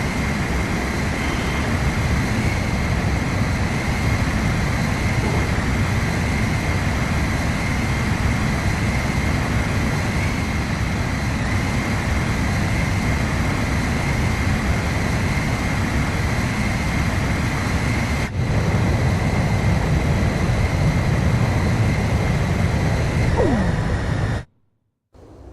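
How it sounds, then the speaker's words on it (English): Jet fighter engine roar in the Ace Combat 5 flight game during aerial refueling: a loud, steady, unbroken drone that holds for nearly the whole stretch, then cuts off abruptly at the end. "Commencing refueling."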